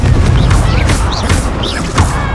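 Confringo fire blast spell exploding in Hogwarts Legacy, several loud booming blasts with whooshing, crackling effects in quick succession, with battle noise throughout.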